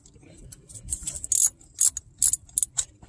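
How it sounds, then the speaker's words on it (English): A 10 mm wrench ratchets in short clicking bursts while tightening a hose clamp bolt on a 2002 Volkswagen Jetta 2.0 coolant hose junction, close and fairly faint with light handling noise between strokes. "Now I just need my little wrench here. Bolt it on. This is a 10 mil wrench."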